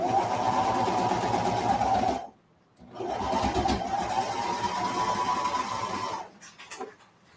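A sewing machine stitches over the seam edges of kids' boardshorts in two steady whirring runs separated by a short pause, close and fairly loud, ending in a few light clicks.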